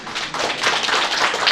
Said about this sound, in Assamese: সকলোৱে হাত চাপৰি দিব লাগে